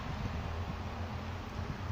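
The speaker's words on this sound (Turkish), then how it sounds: "Rüzgarlı bir hava var." Steady broadband wind rushing and buffeting against the microphone on a balcony, loud and continuous with no voices.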